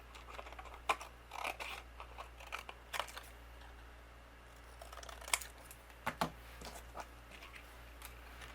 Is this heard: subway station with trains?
no